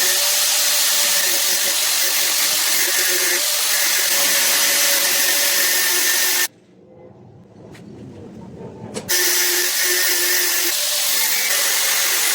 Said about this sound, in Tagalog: So, ginamitan natin ng cutter ng diamond, then pinutol natin, tiniktik natin.